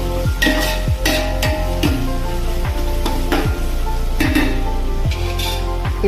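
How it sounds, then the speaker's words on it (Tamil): Onions sautéing in oil with a pinch of salt for biryani, a steady loud sizzle with repeated scraping stirs and clinks of a spoon against the pan, about a stroke every second. "லைட்டாக கொஞ்சம் உப்பு போட்டு வதக்கிட்டிங்கன்னா வெங்காயம் சீக்கிரம் வதங்கிடும்."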